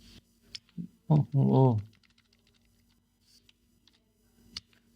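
A computer keyboard gives soft, scattered keystroke clicks in short runs, with a brief stretch of nearby talk in between.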